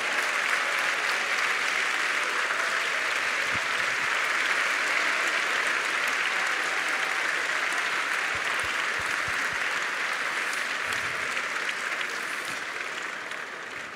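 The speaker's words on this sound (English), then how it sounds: "please stand up so that everyone can recognize your achievement with another big round of applause." A large crowd at a business school graduation ceremony gives graduating students a long, steady round of applause, dense and even throughout without any speech.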